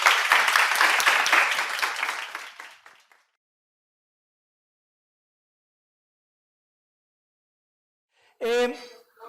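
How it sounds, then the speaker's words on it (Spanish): Applause for participants at a professional panel, a loud burst of clapping that fades out after about three seconds, followed by silence and then a voice starting to speak. "Pido un aplauso para nuestros participantes."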